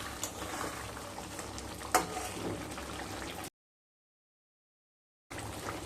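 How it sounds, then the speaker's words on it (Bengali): Pieces of fried katla fish are stirred into a spice paste in a pan, giving a close, steady sizzle with scraping stirs that cuts out into silence, then the sizzling picks up again. "ভেজে রাখা মাছ দিয়ে মশলার সাথে একটু মিশিয়ে নেব।"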